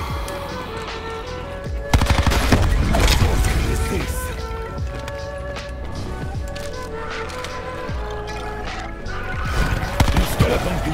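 Rapid automatic gunfire rips through a skeleton wave in a Black Ops 4 zombies map, bursts layered over game music and effects, with loud volleys near the start and end.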